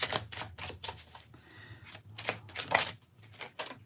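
Tarot cards being shuffled and drawn from a deck, a run of crisp, close, rapid riffling and flicking bursts that pause briefly and then resume, with no talking.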